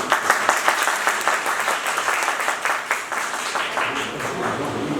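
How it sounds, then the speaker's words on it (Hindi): Loud, steady applause from an audience at a lecture event in Etawah, dense clapping sustained throughout without pause. "मैं चाहता हूं कि सभी लोग इटावा के नाम पर जोरदार तालियां बजाएं।"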